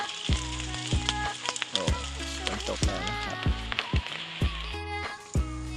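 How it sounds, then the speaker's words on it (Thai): Rain pattering steadily on a surface in a peat swamp forest in Bacho, close and continuous with dense crackling drops, like sizzling. "ฝนก็ตกอย่านี้นะครับ"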